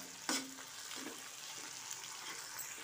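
Tomato pieces go into a pan after egg has fried for a minute, giving a short thump and then a soft, continuous sizzle with faint stirring.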